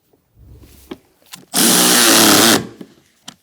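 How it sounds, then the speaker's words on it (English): Bolts on a fuel pump module being tightened on a 2012-2019 Fiat 500 with the 1.4L four-cylinder, heard as one loud, steady one-second burst of power-tool whirring between quieter clicks and handling noises. "And let's tighten these down."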